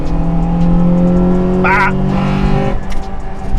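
Loud engine of a 2001 Honda Integra Type-R with close-ratio transmission, revving hard in third gear toward VTEC as the steady tone climbs, heard from inside the car with a short exclamation from a man.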